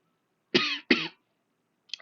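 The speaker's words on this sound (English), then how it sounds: "Sorry, I had a cough right there" Two quick, sharp coughs in succession from a nearby man, loud and clear against silence, with a faint sound trailing at the end.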